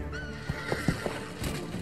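A horse in the film Gladiator (2000) gives a loud, close whinny with a few hoof clops and battle sound mixed in, lasting under two seconds.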